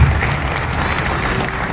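An audience claps to welcome the chief engineer at a public event for a new canal bridge, a dense, steady burst of applause that carries through without a break.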